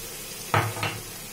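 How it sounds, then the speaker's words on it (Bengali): Spiced potatoes with sour curd being stirred in a pan, two short scraping strokes of a spoon against the metal over a faint background hum. "এটা ফাটানো টক দই দিয়ে ভালো করে নেড়ে নেবো"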